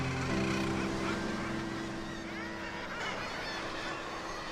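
Seabirds call over the sea cliffs and stacks of the Lunga bird reserve in the Inner Hebrides, a dense, steady chorus of honking and squawking cries with some longer held notes, fairly faint.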